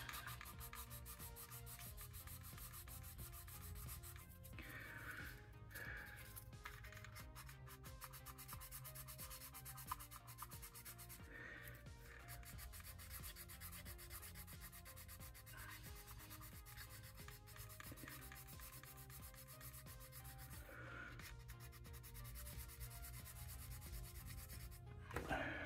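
Sandpaper rubs steadily against the plastic of a Monogram Typhoon scale model kit, a quiet continuous scratchy back-and-forth rasp with brief pauses between strokes and no speech.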